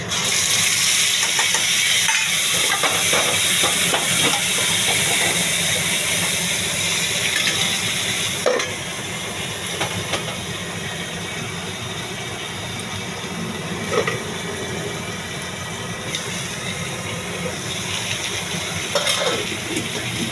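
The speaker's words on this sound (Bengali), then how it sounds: "তারপর আমি ছেড়ে দিচ্ছি দেখুন পেঁয়াজের পেস্ট" Onion paste dropped into hot oil already fragrant with bay leaf, cardamom, cinnamon and cloves for a yogurt rohu curry, giving a steady loud sizzle with faint stirring scrapes throughout and no talking.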